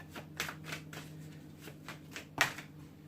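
Tarot cards are shuffled by hand in a series of quick, soft riffling bursts, close and fairly quiet, with a sharper flurry near the end.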